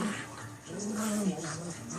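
A Chihuahua puppy growls and whimpers softly while playing indoors, a low, fairly quiet rumbling growl lasting a couple of seconds.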